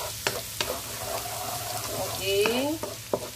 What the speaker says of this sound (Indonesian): Kita tumis bawang putih.